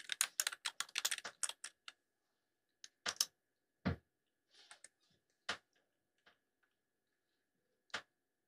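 Typing on a computer keyboard, a quick burst of close key clicks at first, then sparse single taps and a couple of heavier keystrokes spaced out over several seconds, fairly quiet with no talk.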